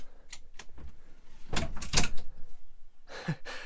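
The door of a converted Ford school bus operating with a couple of clunks and a sliding rattle near 1.5–2 seconds, followed by another brief mechanical knock, in a quiet interior with no talk.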